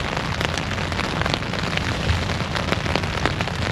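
Steady rain drums on a tent during an ebike camping trip in a rainstorm, a dense, close patter of drops with occasional heavier hits, continuous throughout with no voices.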